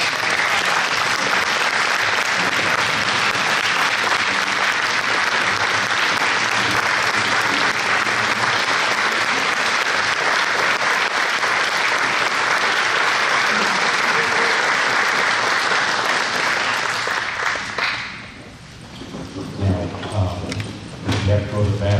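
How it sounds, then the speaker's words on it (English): Loud, sustained applause from a conference audience for three speakers on stage, a dense wash of clapping that fades out near the end before a voice resumes talking. "Let's give them a hand."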